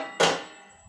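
Water poured into a pan of meat curry being fried down, a sudden loud sizzling hiss that bursts up and then slowly fades, with no talk.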